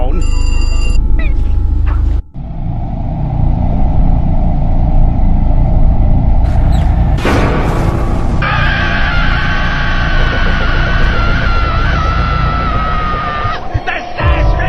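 A telephone rings loudly amid a chaotic, noisy scene with rumbling, screaming and people talking over it, the ringing persisting across much of the stretch.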